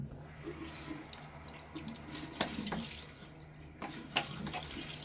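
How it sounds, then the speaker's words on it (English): Tap water runs into a sink while someone splashes it onto their face before a shave. Close, gurgling, running water is broken by a few sharp splashes, quiet overall with no talking. "now I'll throw a little bit of water on my face"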